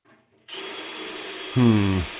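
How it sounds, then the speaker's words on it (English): A power drill with a step drill bit starts up with a steady whine, then bites in for a brief, louder grinding burst as it cuts through material. "This little step drill is not exactly what I was expecting"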